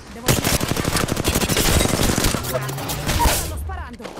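Automatic gunfire from a weapon in Apex Legends rattles in fast, dense bursts for nearly four seconds, loud and close, then cuts off abruptly.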